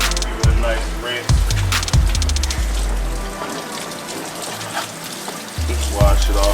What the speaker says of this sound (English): Give it a nice rinse.